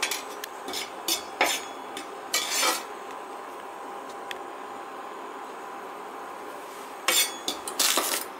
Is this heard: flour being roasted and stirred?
yes